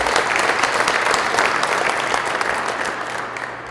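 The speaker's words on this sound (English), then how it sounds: "Let's give him a nice round of applause." Applause from a crowd at a basketball banquet, many hands clapping steadily and densely at close range, then slowly tapering off toward the end.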